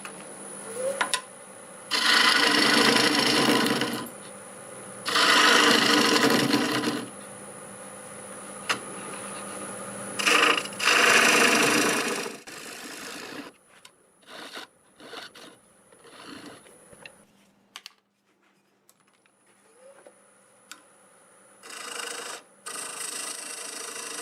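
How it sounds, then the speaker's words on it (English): Purple heart hardwood turns on a lathe under a 3/8 bowl gouge, giving repeated loud scraping bursts of a few seconds each, separated by pauses, with a steady motor hum underneath. "I'll use my 3/8 bowl gouge for this."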